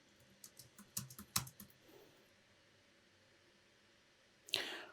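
Keystrokes on a computer keyboard while entering numbers into a Max MSP patch: a scattered run of close, quiet clicks early on, a pause, then one louder burst of keys near the end, with no talking.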